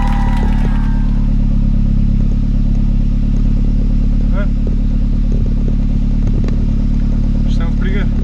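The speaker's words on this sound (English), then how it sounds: "let me start this car up and see how the oil change came out." A car engine right after an oil change cranks at the start and then settles into a loud, steady idle with a low, even drone and some clattering, heard up close.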